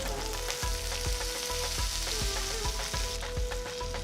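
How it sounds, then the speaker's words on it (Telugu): Mustard seeds, chopped ginger, green chilies and curry leaves sizzle steadily in hot oil in a pan, with repeated stirring knocks from a spoon at a regular beat, close and alone. "1 టీ స్పూన్ ఆవాలు వేసి వేయించాలి. తర్వాత ఇందులో తరిగిన ఒక అల్లం ముక్క, చిన్నగా తరిగిన 2 పచ్చిమిరపకాయలు, కొన్ని కరివేపాకులు వేసి కలపాలి."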